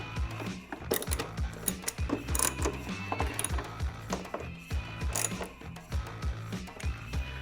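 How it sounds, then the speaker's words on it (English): A ratchet tightens screws on a LED headlight fitted to a 2015–2025 Harley-Davidson Road Glide motorcycle, heard as rapid repeated clicking strokes in short bursts with brief pauses, close and fairly loud, with no talking. "go ahead and make sure these screws are fully tightened."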